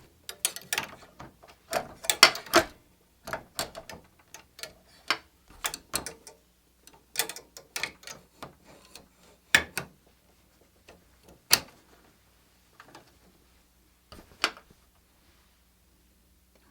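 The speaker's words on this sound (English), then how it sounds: "We're going to put this back on the machine and we're going to finish our red satin stitch." An embroidery machine works a red satin stitch on an appliqué for a toddler's shirt, giving off sharp mechanical clicks and clacks in irregular bursts with quiet gaps and no voices.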